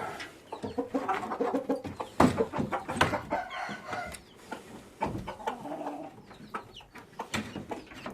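Malatya Arab-breed chickens, a rooster with hens and chicks, cluck and call repeatedly at close range in short, irregular bursts, with no one talking.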